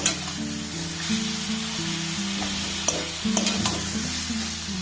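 Grated coconut and jaggery stirred in a hot wok over a gas flame: an even sizzling hiss with occasional sharp scrapes and taps of a spoon, against a steady low tonal hum.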